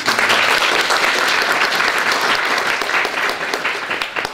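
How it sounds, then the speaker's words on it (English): Sustained applause from an audience, loud and dense throughout, tapering slightly at the end. "Round of applause there, please."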